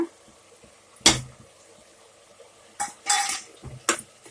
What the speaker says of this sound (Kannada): ಇದನ್ನು ಚೆನ್ನಾಗಿ ಮಿಕ್ಸ್ ಮಾಡ್ಕೊಬೇಕು